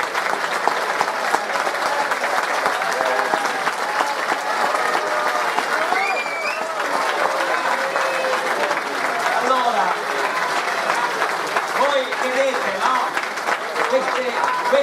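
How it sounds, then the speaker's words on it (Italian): A political gathering's audience claps in a dense, steady round of applause that holds for about fifteen seconds, with crowd murmur and voices mixed underneath. "Facciamo un applauso alla Digos."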